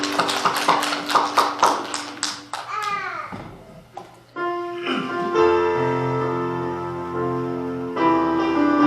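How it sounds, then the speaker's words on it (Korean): A congregation claps at a Korean Presbyterian church's Sunday worship service. Quick, steady claps in time run for about three seconds, then give way to sustained music. "서로 하나님께 박수를 영광 올려드리겠습니다."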